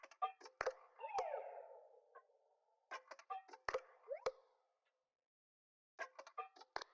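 Two layered percussion loops in an FL Studio beat play together, a busy pattern of tight clicks, plops and tapping hits with short sweeping tones, repeating in bursts with brief gaps, no talking.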